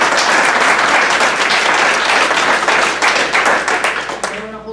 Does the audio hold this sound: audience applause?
yes